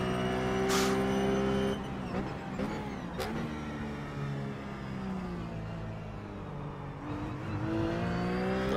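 Ruf race car engine in iRacing at Virginia International Raceway (VIR), droning loudly with steady harmonic tones that shift pitch as it downshifts, with brief blips and revs, no talking.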